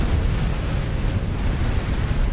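A nuclear strike explosion in the strategy game Art of War 3: a dense, sustained low rumble that stays loud and steady throughout, with no voices.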